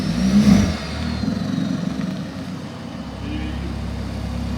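A car engine revs and accelerates up close, rising in a loud burst early on and then settling into a lower rumbling drone.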